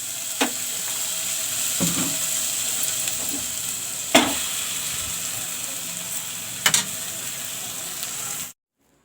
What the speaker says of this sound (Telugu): నేను ఇప్పుడు ఇది తాలింపు అయితే పెడతాను.